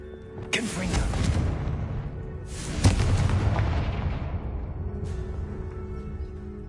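A Confringo blasting spell goes off in a Harry Potter video game with a sharp, loud explosive burst. Two more blasts follow close behind, each trailing off into a rumbling decay over steady game background noise.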